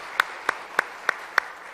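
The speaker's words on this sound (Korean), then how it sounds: "우리 홍성교회 식구님들에게 큰 박수로 격려해드리도록 하겠습니다" Five evenly spaced claps ring out, sharp and close, spaced about a third of a second apart over a faint room background, at a church service where the congregation is asked to applaud the Hongseong church members.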